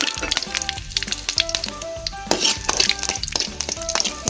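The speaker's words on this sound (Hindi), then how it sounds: "हमारी राई थोड़ी सी चटकने लगती है जब हम इसके अंदर डालेंगे करी पत्ता, 2 सूखे लाल मिर्च" Mustard seeds crackling in hot oil as curry leaves and two broken dried red chillies fry, a busy stream of close, bright pops and sizzling spits with occasional clinks of a utensil.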